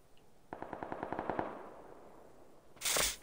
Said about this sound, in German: Jetzt höre ich die Schüsse auch.